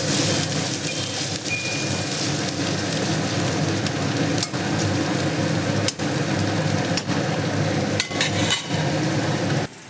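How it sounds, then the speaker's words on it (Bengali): New potatoes fry in a pan with a loud, dense, continuous crackling sizzle, broken by a few brief spatter pops and knocks; no voices. "আলুগুলো লাল লাল করে সুন্দর করে ভেজে নিব।"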